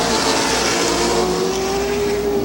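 Race cars at Midvale Speedway drone steadily around the track, a loud continuous engine roar with a rising whine as one car pulls through.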